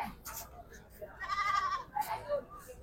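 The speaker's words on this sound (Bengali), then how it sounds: "ছাগল নিয়ে আসছে।" A goat bleats loudly with a wavering cry at a crowded Eid cattle market at Gabtoli haat, rising through the crowd murmur near the middle and again briefly later, while people talk nearby.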